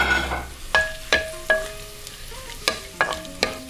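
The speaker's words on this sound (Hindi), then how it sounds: "सबसे पहले मैं हांडी के अंदर वो ये प्याज डाल रहा हूँ और इनको मैं थोड़ा सा लाइट ब्राउन करूँगा" Onions fry in a clay pot handi, a soft sizzle running underneath as a spoon stirs them. The stirring comes as about seven sharp clinks and scrapes spaced unevenly across the stretch.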